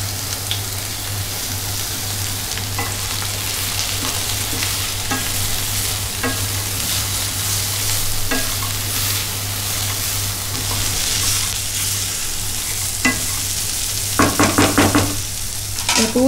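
Fennel and cumin seeds fry in hot oil for stuffed bitter gourd, a loud steady close sizzle with scattered crackles and stirring scrapes, a few sharp clacks near the end.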